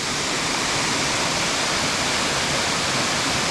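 A swollen woodland stream rushes after a rainstorm near a waterfall in the Tahoe area, a loud, steady broadband roar of flowing water close by with no pauses.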